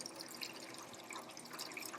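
Hot rinse water drains from a Bravo Trittico gelato machine into a sink, a faint, steady trickle with light dripping and splashing throughout.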